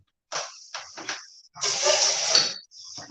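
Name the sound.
rinsing something under running water in the kitchen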